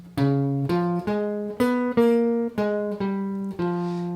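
A jazz guitar line of eight plucked, sustained notes on a clean-toned guitar, a tritone substitution line over a ii-V-I, each ringing briefly before the next, moving steadily upward then settling.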